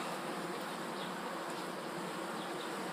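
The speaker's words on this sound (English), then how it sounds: "Okay, so you just set that and watch these bees." Honey bees buzz steadily around an open hive as a beekeeper works the frames, a dense, continuous close drone with no talk.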